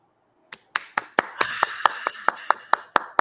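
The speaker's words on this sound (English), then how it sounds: "I can hear all your digital clapping" A digital clapping sound effect plays about a dozen crisp, evenly spaced claps over a faint backing tone. The claps sound bright and close and start after a brief silence.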